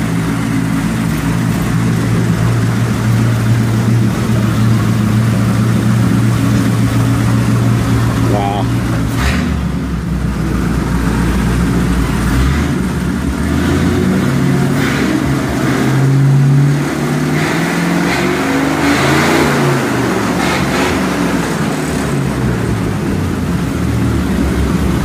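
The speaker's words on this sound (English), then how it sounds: "He can start up this old race car. 1938 Studebaker." A 1938 Studebaker straight-eight race car engine cranks, fires and idles loudly up close, then revs up and down repeatedly, with people talking over the engine noise.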